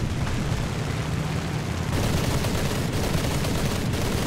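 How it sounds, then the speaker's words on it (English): Sustained rapid gunfire rattles continuously as War Thunder aircraft guns fire on Boomerang planes, loud and dense over a low engine rumble, growing slightly brighter and harsher midway, with no voices. "Popping shots off at the boomerangs."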